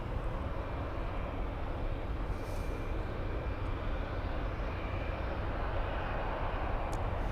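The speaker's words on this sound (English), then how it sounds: "We have a blue KLM flying in from Amsterdam. It's an Embraer E190, a 1-hour flight." A blue KLM Embraer E190 jet arriving at Munich from Amsterdam makes a continuous, even engine rumble and hiss at moderate distance, steady throughout without rises or breaks, with no talking over it.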